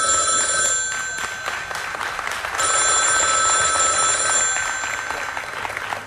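A telephone rings steadily with an incoming call in a broadcast studio, a bright repeating bell-like tone held loud throughout with a brief dip early on.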